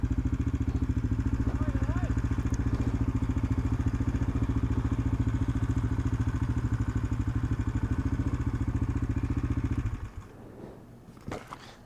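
Dirt bikes ride along the Trans Euro Trail in Italy, a loud, steady near engine drone with rhythmic pulsing that holds for about ten seconds, then drops away abruptly to quieter rumble and a few clatters.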